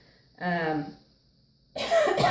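Two harsh coughs from someone getting over a cold, one short and throaty, then after a pause a louder, rougher burst, close to the listener.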